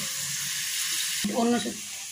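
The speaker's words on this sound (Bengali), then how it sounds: "কড়াইয়ে তেল দিয়ে বাদামটা দেওয়া হয়ে গেছে, ভাজা হচ্ছে" Peanuts frying in oil in a kadai give a constant bright sizzle, joined halfway through by a close, louder burst of stirring and clinking against the pan.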